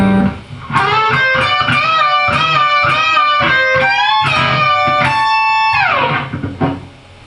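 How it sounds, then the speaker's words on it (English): An electric guitar plays the fast intro solo of a song through a harmonizer, a second voice doubling it in harmony, loud and continuous, ending on a sliding note. "For the intro solo, it'll sound like this with the harmonizer."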